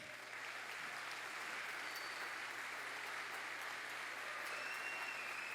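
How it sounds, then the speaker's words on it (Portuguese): A church congregation at a missions service gives sustained applause in honor of an elderly woman standing, a soft, even, distant wash of many hands clapping that continues without a break. "As palmas também são para a senhora."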